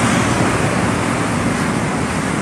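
Busy traffic of jeepneys and UV vans near Trinoma station, a dense continuous roar of engines and road noise, close and loud with no pauses.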